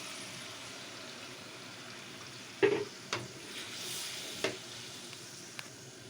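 Onion-tomato-garlic-ginger paste cooks in hot ghee in a kadai with a faint, even sizzle, broken by a few clattering knocks as it is added and stirred.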